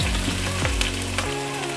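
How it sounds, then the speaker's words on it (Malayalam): Steady, dense sizzling of garlic and crushed ginger frying in hot oil previously used to fry onions, loud and close, with a few brief clinks and stirring sounds, no voices. "ഉള്ളി വറുത്ത എണ്ണയിലേക്കാണ് ഞാൻ അടുത്ത വെളുത്തുള്ളി ഇട്ട് കൊടുക്കുകയാണ്"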